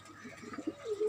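Pigeons coo close by in a rooftop garden, a few soft low throaty calls rising toward the end of a brief moment.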